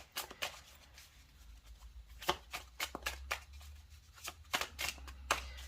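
Tarot cards are shuffled close by in quick, soft, irregular bursts of papery riffling and slapping against a quiet background hum.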